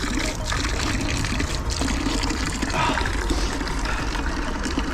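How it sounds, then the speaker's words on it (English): Malvern spring water flows and trickles continuously, a loud, close, steady splashing stream with no voices over it. "Here's the world famous Malvern spring water."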